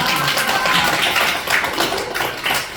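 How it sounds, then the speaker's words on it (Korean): A church congregation applauds together at a Sunday worship service, a dense, steady wash of many hands clapping at close range throughout, with no talking over it. "박수 한번 해주세요."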